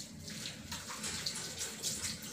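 Hands being washed under a running tap in the thorough, surgeon-style manner: a steady splashing water stream with soft irregular rubbing and dripping, close and moderately loud, alone with no voices.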